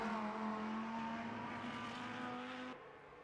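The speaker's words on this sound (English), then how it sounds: "that's a Lamborghini" Lamborghini race car engine in the Le Mans Ultimate racing game, a steady, droning mid-distance engine note holding a sustained pitch, fairly quiet, before it cuts off abruptly near the end.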